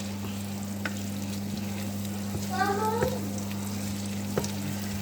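Beef liver pieces sauté in a pan with a steady low sizzle, joined by a brief clatter of stirring midway, over a constant electrical hum.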